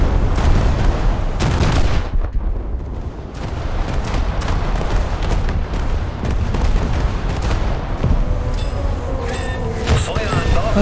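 Naval battle in a video game with the battleship Scharnhorst, a torpedo striking an enemy ship amid loud, continuous gunfire and booming explosions, with sharp bursts throughout and a voice speaking over the din.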